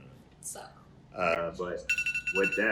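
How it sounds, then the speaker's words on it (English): A mobile phone rings in a short repeating electronic trill that starts partway through and continues to the end, loud and close, overlapping a person speaking. "That was my phone"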